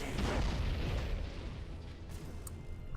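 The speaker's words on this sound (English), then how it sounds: "Some pretty explosions." Spaceship explosions in the video game Battlefleet Gothic: Armada 2, a battleship blown apart: a deep, rolling boom that is loudest at the start and fades into a low rumble, with a few faint crackles later.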